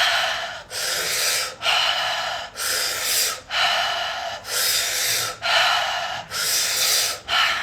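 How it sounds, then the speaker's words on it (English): Someone breathes deeply through an O-shaped mouth during a manifestation exercise, around nine loud, full breaths in a steady, close rhythm with brief pauses between them and no talking. "Making sure that you're breathing through an O-shaped mouth as fully and as fully, deeply as you possibly can."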